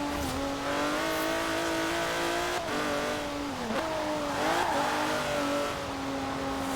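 A steady, loud car engine drone in the racing video game Forza Horizon 4 holds a constant pitch, dipping briefly a few times as if shifting gears, with no voices.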